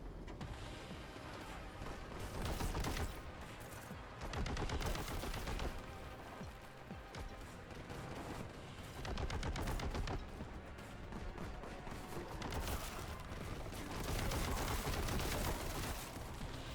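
Heavy bolter gunfire in the shooter game Warhammer 40,000: Boltgun, a sustained loud barrage of rapid heavy shots with booming bursts that swell and ease repeatedly, with no talking.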